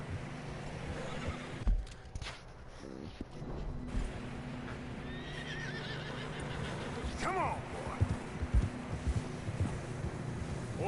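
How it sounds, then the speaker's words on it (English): Horses in Red Dead Redemption 2 trudging through fresh, deep snow on a narrow path, loud neighs and whinnies over soft hoof steps and wind, with someone speaking briefly. "Horses are getting tired."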